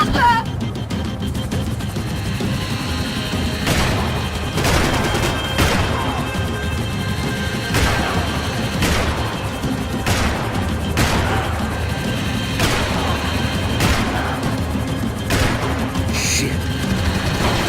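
Gunfire from the Max Payne 3 video game, with repeated sharp shots and bursts crackling over a constant rumbling engine-like bed, near and loud, with voices shouting between the shots.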